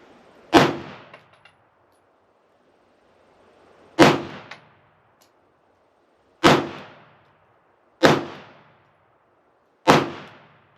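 Five sharp pistol shots from a 2024 Staccato C fired slowly and deliberately at a target, each loud crack decaying quickly, spaced a few seconds apart with quiet between.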